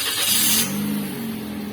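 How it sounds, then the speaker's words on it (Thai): A Toyota Yaris Ativ fitted with an aftermarket push-start button fires up, giving a brief starter burst followed by a steady low idle hum, close by and with no voices. "แตะเข้าไปทีสตาร์ทเครื่องให้"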